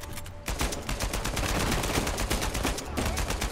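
Hip-fired gun in Uncharted 4, a loud sustained burst of rapid automatic shots that begins after a brief quiet moment and runs almost without a break.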